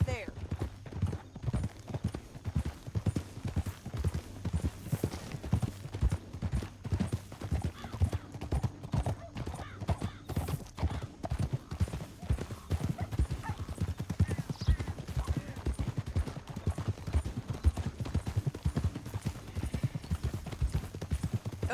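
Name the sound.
horses galloping in Red Dead Redemption 2 video game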